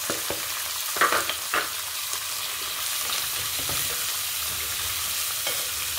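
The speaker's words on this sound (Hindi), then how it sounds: "आलू गोभी को हम अच्छी तरह पहले ऑयल में फ्राई कर लेंगे।" Potato and cauliflower pieces frying in hot oil, a broad steady sizzle close up, with a couple of sharper clatters of the spoon early on and no voices.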